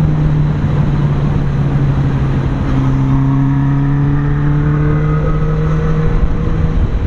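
A Honda CB650R motorcycle engine cruises steadily at about 100 kph and 4,700 RPM, a loud continuous drone with rising harmonic tones and constant wind rush, no talking.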